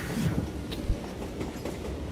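A train riding on rails in Call of Juarez: Gunslinger, a loud, continuous rumble of rolling wheels with irregular clanks and rattles, heard close with no talking.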